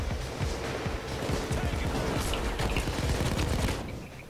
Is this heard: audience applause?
no